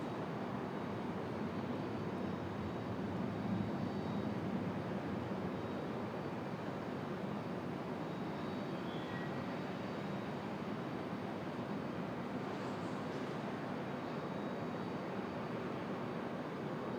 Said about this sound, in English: Good looking shot of the A220. Turning and burning here.